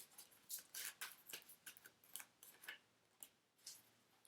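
A deck of tarot or oracle cards being shuffled by hand, a quick run of crisp riffling flicks and soft card slaps, close and fairly quiet, with no talking.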